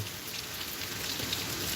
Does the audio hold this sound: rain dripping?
yes